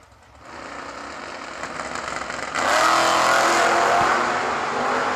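At a New Year Nationals drag race, a Big Block Nova and a Camaro rev at the line and then launch, their engines building into a sudden louder roar partway through.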